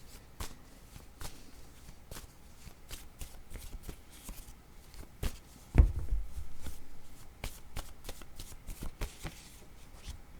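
Word cards being shuffled and handled at a quiet table, giving repeated soft riffling flicks and papery taps with one heavier thump midway, with no voices.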